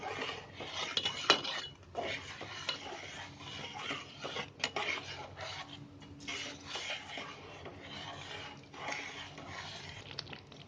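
Roasted semolina is stirred into boiling water in a pot for rice sheera, with a spoon scraping and clinking against the pot in a steady, irregular rhythm at moderate volume, with no one talking.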